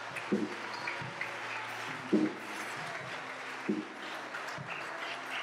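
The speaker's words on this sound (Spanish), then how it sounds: "Denle un aplauso fuerte al Señor los que adoran en alta voz." Church congregation clapping steadily during worship, a soft continuous patter of hands under a low hum, with a few louder thumps.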